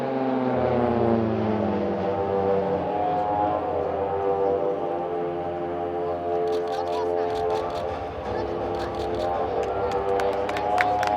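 A formation of Pilatus PC-7 propeller aircraft from a Swiss Air Force display team roars through a tunnel crossing at an airshow, a loud sustained engine drone with shifting pitch, with crowd noise and a commentator's voice over it.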